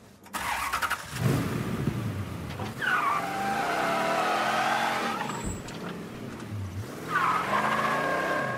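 A car in the Mafia III video game drives and squeals its tires in long sweeping screeches, with engine revving between skids, fairly loud and with no one talking.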